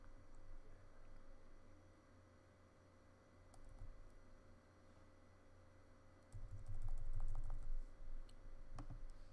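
Someone types on a computer keyboard while searching for a Konica copier driver, with soft sparse key taps over a low steady hum, growing a little busier near the end.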